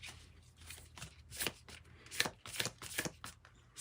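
An oracle card deck shuffled by hand at close range, with several short bursts of riffling and flapping cards separated by brief pauses and no talk.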